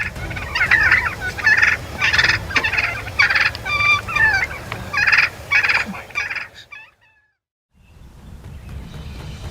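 A flock of wild turkeys gobbles loudly and repeatedly, rapid warbling bursts tumbling over one another for several seconds before cutting to near silence, then faint outdoor background returns.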